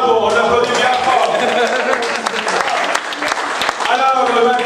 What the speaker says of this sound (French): bravo, bravo, on applaudit bien fort